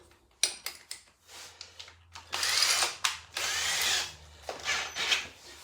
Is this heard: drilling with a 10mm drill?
yes